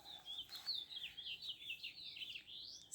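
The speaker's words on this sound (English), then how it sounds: "I'm sitting in our screened-in porch outside in the back, so you'll hear the birds chirping." Birds chirp continuously outside a screened-in back porch, a steady run of bright tweets and trills at moderate distance, with no voices.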